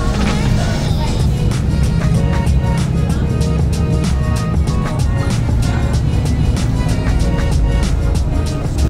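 A bus travels along the Circumferential Road in Panglao, Bohol, near Alona Beach, its steady engine drone and road rumble loud and continuous throughout, with faint voices in the background.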